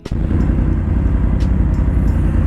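BMW motorcycle on a Sunday ride toward Barnala, a steady loud engine drone with continuous wind rush, heard close from the rider's position without pause.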